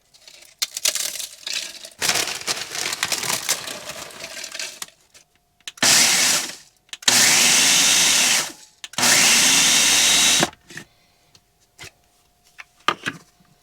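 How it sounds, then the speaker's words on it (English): A blender pulverizes Doritos tortilla chips into fine dust while camping, loud whirring in three bursts of roughly two to three seconds each, after a stretch of rattling and crinkling handling noise, with no talk. "I'm just gonna throw the Doritos in the blender so that I can get them as fine as possible"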